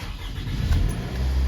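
Toyota Camry with 250,000 miles starting up, the engine catching and settling into a low steady rumble, close and fairly loud with no talk.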